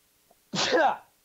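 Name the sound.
sneeze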